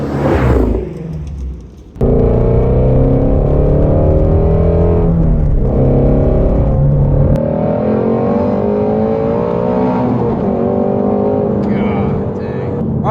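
Ford Mustang Shelby GT350R V8 engine running loud and close, a deep throaty drone with rising and falling revs, an abrupt start after a brief quieter moment, steady and powerful throughout.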